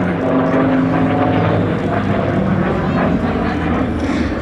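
A loud, steady propeller drone from a warbird flying at an air show, a former carrier-based plane now based at Dijon-Darois in Burgundy, filling the whole clip without a break.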